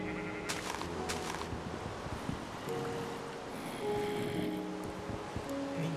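Sheep bleating in Minecraft, a few short bleats standing out over a soft background with water-like ambience and scattered game sounds.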